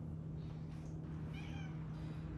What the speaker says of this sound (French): Ah ben, un chat.